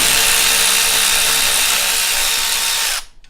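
A power ratchet spins loudly and continuously on the rear brake knuckle bolts of an S550 Mustang GT during a brake upgrade, then cuts off abruptly near the end.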